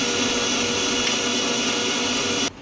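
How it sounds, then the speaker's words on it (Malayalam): A mixer grinder whirs loudly and steadily as it grinds a paste with water for Onam curry, a dense continuous roar that stops abruptly near the end. "ആവശ്യത്തിന് വെള്ളം ചേർത്ത് അരച്ചെടുക്കാം നന്നായി അരച്ചെടുക്കണം"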